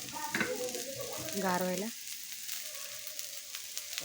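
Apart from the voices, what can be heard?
bitter gourd roasting in a pan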